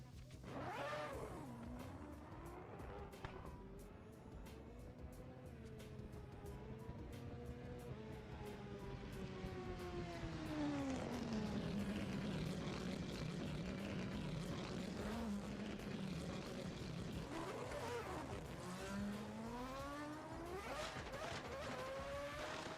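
Drift cars at the start line of Tokachi International Speedway in Japan rev and launch, engine notes sweeping up and down in pitch over a sustained loud roar from several cars that builds midway and stays heavy.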